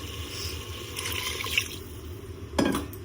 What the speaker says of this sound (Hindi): अब डालते हैं इसमें पानी।